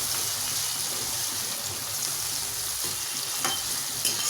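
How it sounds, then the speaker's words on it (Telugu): Tomato pieces, green chillies and curry leaves fry in hot oil in a pan, giving a steady, loud sizzle with occasional stirring scrapes throughout, no talking. "మిర్చి కూడా వేసుకోవాలి. కరివేపాకు వేసుకుని కొంచెం ఒక 2 మినిట్స్ ఫ్రై చేసుకోవాలి."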